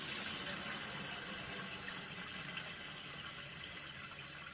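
Strained maple sap poured into a container makes a faint, steady liquid rush that lasts the whole moment without a break.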